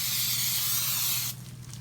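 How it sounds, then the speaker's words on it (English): A close, loud burst of aerosol cooking spray onto a cast iron skillet, hissing for over a second, then cutting off into quiet room noise. "I'm going to spray my cast iron skillet."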